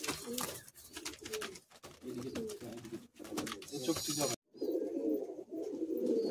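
Pigeons coo steadily in a loft of Andhra pigeons kept for sale, a dense run of throaty calls close by, briefly cut off partway through and then continuing.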